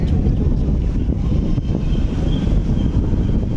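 Strong night wind in Chennai blows steadily, buffeting the microphone with a continuous low roar and no voices.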